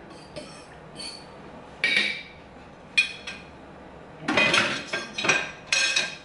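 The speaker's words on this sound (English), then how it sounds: "I'm going to put it back into the pot, into the liner." Pieces of cut beef are put back into a slow cooker's pot liner with a spoon or utensil, giving short, close clinks and clatters in separate bursts, busiest near the end, with no talking.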